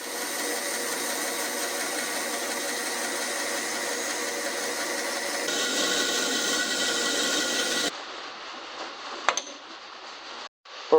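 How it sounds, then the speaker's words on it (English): A bandsaw cutting the rough shape of a homemade wooden trout glide bait, a steady whirring drone with blade noise that runs for several seconds, then stops abruptly, leaving faint workshop clicks and a knock. "I will now take it over to the bandsaw and cut the rough shape out."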